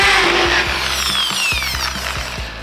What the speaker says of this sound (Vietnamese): Khoan mồi thì ta khoan.